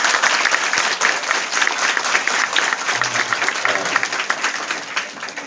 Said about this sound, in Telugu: మీ గట్టిగా చప్పట్లతో